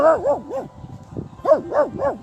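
A dog barks in two bursts of three quick, loud, near barks with a short pause between, while a person talks in the background.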